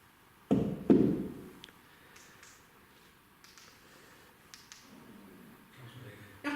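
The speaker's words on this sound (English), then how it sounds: "Could you make a nice loud knocking sound?" Two loud knocks on a hard surface in quick succession, followed by quiet room tone with faint scattered taps and a soft thump at the end.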